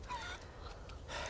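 A chicken in Resident Evil 4 gives a brief, faint cluck over a low in-game ambient rumble, heard alone without speech.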